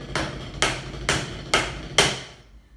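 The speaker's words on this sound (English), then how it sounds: "you'll hear me play this, which is a 5-stroke roll" Five sharp, evenly spaced drum strikes roll out in quick succession, each a crisp snare-like attack with a short decaying ring, close and loud with no voices over them.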